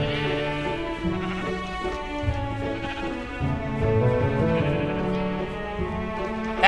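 Sheep bleat inside a video game, a run of wavering, layered baas that carries on steadily for several seconds, close and fairly loud, with no talking over it.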